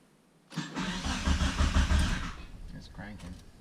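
A DSM turbo car's engine cranks loudly for about two seconds with a rapid chugging starter rhythm, then winds down without catching, followed by quieter shuffling sounds.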